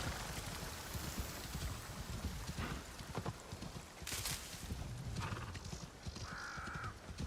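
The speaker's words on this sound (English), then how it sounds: "let's get on this spotted horse" Horse hooves clip-clop steadily from a spotted horse ridden in Assassin's Creed Shadows, a continuous mid-loud gallop mixed with ambient game noise and a brief whinny-like sound.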